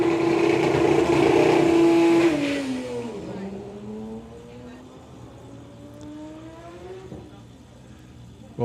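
A Porsche doorslammer drag car at a drag racing event, with a loud engine roar that drops sharply as it lifts off, then a falling and rising whine that fades into the distance under faint background noise.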